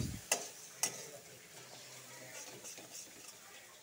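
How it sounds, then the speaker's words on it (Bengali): Spices frying with ground cashew paste in a pan, a faint, low sizzle with a couple of sharp ticks from a utensil near the start and light stirring scrapes after. "কাজুর সাথে মশলাগুলো ভাজা হয়ে গেছে"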